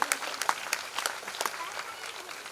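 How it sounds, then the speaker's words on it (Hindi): A devotional gathering for a Shiv Mahapuran katha breaks into scattered clapping, a short burst of claps at moderate distance fading within a few seconds. "तो उन सब के लिए आप लोग सिर्फ तालियां बजाओ"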